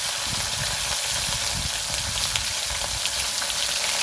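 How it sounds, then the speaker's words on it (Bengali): Small mourala fish fry in hot mustard oil with a loud, continuous close sizzle and crackle, a steady hissing spatter that never lets up, with no talk. "এখন আমি মাছগুলোকে ভেজে নেব।"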